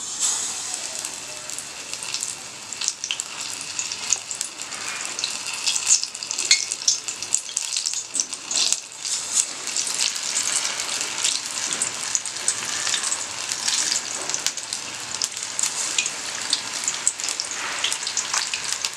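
Batter-dipped jackfruit pieces deep-fry in hot oil as bajji, a dense, even, rain-like sizzle heard up close that runs without a break for the whole stretch, no voices over it.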